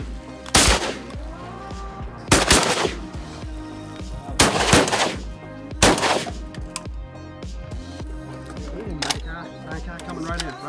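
Shotgun blasts at early-season wood ducks over decoys from a duck blind: four loud, close shots spaced a couple of seconds apart, with voices talking between them.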